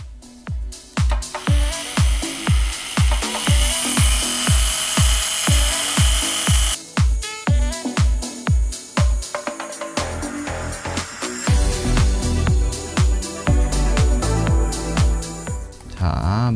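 A mild finishing compound is worked over a scratched iPhone screen in quick, rhythmic rubbing strokes, about two per second, then shifts into a rougher continuous buffing whir, all close and fairly loud.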